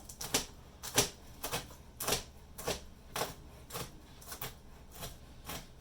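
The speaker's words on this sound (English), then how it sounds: "So you're going to dice your bacon pretty small." A knife chops bacon into small dice on a cutting board, crisp regular knocks about twice a second, close and fairly quiet.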